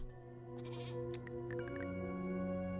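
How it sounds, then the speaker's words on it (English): Goat bleating in the Gnomes video game, a few wavering bleats over a steady harmonic musical drone, fairly close and clear with no talk. "the goat. What are you?"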